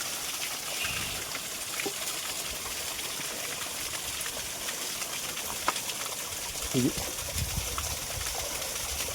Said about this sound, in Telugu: అంతర్గంగా వాటర్ ఫాల్స్.